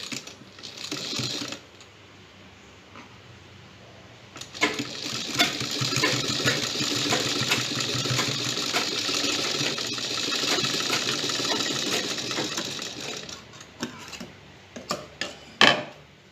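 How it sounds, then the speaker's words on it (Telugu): Sewing machine stitching together the seams of a circular umbrella palazzo pant, a steady mechanical whirr that runs for about nine seconds between shorter bursts and handling noises, with no speech. "ఇప్పుడు ఇలా రెండు కుట్టేసి దీన్ని జాయింట్ చేసేస్తాం"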